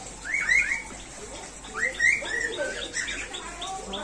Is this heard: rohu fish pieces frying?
no